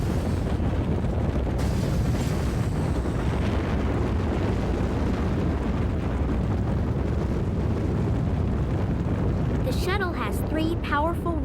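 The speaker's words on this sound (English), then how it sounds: "powerful rockets, the main rocket engine, and 2 solid rocket boosters on the sides" Space shuttle launch with the main rocket engine and two solid rocket boosters firing, a loud, sustained, dense roar with crackling rumble that continues throughout, ending with a brief burst of music-like tones.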